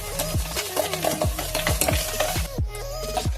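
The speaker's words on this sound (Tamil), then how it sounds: "ஆட் பண்ணி நல்லா மிக்ஸ் பண்ண போறோம்" Boiled and cooled milk is stirred into a bakery-style vanilla cake batter, making a steady run of close, regular mixing strokes with a faint steady hum underneath.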